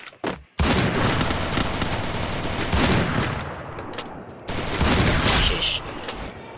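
Heavy gunfire in a video game, loud bursts of rapid shots filling nearly the whole stretch with a brief gap near the start and another surge of fire toward the end.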